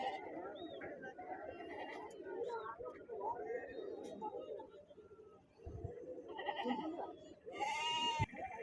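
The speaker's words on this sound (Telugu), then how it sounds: "ఈ వారం జర గొల్ల గుంపులు ఎక్కువనే వచ్చినాయండి" Goats bleat repeatedly among herds at a busy weekly Saturday livestock market in Dubbaka, with several near and distant calls mixed with people talking.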